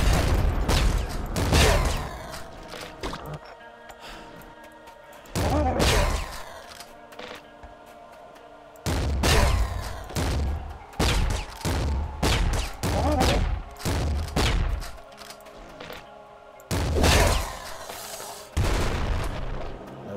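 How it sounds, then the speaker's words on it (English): A flak cannon in Nuclear Throne fires in loud, punchy bursts, each a sharp blast with a short crackling tail, coming in irregular clusters separated by quieter gaps of game music and ambience. "The flak cannon is doing a good job for me."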